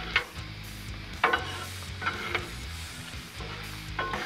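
Sausage on a Blackstone griddle gives a faint, soft sizzle, broken by a few light scraping taps from a spatula, close by and with no talking.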